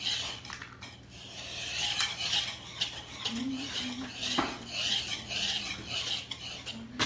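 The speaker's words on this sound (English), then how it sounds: "Sorry to make all the scraping noises." Rapid metallic scraping and clinking of a small whisk against a mixing bowl while making scones, continuous and close, with uneven rhythmic strokes and a faint tonal squeak.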